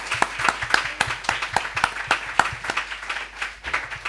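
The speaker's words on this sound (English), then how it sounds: "So can we give them a round of applause?" An audience at a conversation event applauds, with sparse, irregular individual claps from a small crowd, moderately close and with no talk over them.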